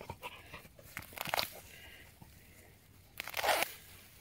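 Wormwood stems torn and picked by hand outdoors, giving a few crunchy, rustling bursts of tearing near the microphone with quieter gaps between them.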